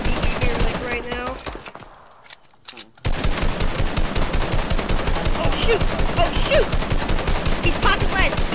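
Rapid automatic gunfire from the video game Fortnite, dense and loud in a fast continuous burst. It stops briefly for a short gap, then resumes at full intensity.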